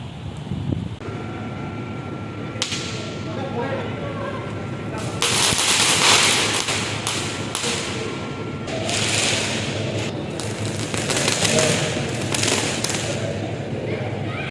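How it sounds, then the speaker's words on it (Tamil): Rapid crackling bursts of firecrackers popping in long chains, some sharp bangs close and others rattling further off, over a steady outdoor background at an apartment Diwali celebration in Penang, Malaysia. "வெடி சத்தம் இன்னும் அதிகமாச்சு"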